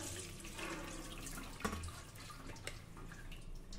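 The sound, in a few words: water draining from lentils in sieve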